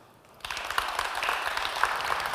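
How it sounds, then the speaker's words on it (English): Applause breaks out from a conference audience, starting abruptly after a brief quiet moment and continuing as a steady, dense wash of clapping. "please, again, applause, big applause to each one of you."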